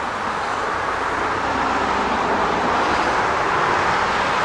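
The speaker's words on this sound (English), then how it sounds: "Sorry about the traffic noise" Steady broadband roar of road traffic beside the Delaware Canal, a continuous wash of passing cars with no breaks, fairly loud and close throughout.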